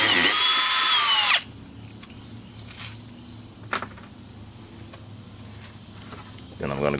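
A power drill or impact driver whines loudly for just over a second, backing out a headlight bolt on an eighth-generation (2018-2024) Toyota Camry, then stops. Quiet handling clicks follow before the tool starts up again at the end.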